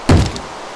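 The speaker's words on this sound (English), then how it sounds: "There's a zombie knocking on my door." A single dull thud of a zombie banging on a wooden door in a Minecraft-style video game, close and loud, then fading into faint background noise.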